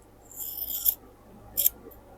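Two crisp scissor snips cutting through fabric, close and clear, separated by a short pause in an otherwise quiet room.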